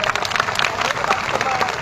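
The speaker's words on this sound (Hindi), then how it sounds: "एक बार जोरदार तालियों से रामदेव भाई का स्वागत करें" A large crowd at a tribal rally in Khategaon, Dewas district, claps continuously to welcome a speaker, a thick wash of applause with voices mixed in.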